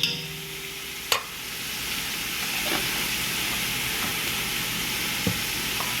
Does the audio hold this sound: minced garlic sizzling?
yes